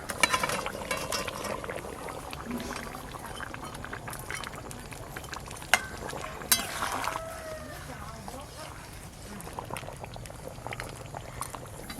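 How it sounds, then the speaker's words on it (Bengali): Fish curry broth with potatoes boiling in a pot, a steady soft bubbling and gurgling with occasional clinks, low and continuous, with speech over it. "ঝোল একদম টকবকা হয়ে ফুটছে"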